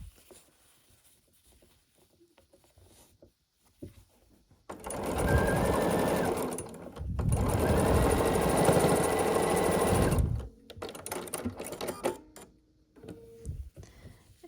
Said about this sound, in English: And then we're going to sew these other 2 together now like this.